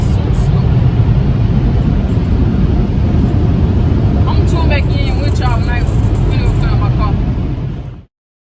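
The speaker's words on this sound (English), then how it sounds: "my car going so slow through the car wash" A car creeps through an automatic car wash, surrounded by a loud, continuous rush of spraying water and machinery that cuts off abruptly near the end.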